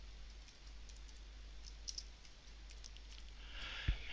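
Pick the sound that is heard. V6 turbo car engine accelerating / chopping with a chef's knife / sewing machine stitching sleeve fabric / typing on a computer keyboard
typing on a computer keyboard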